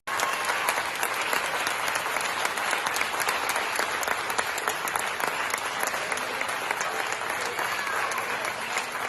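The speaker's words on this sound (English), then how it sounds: "the standing ovation given by the parents that were at the Massapequa school board meeting" Parents at a Massapequa school board meeting give a standing ovation, dense sustained clapping from a room full of people with faint crowd murmur throughout, loud and unbroken.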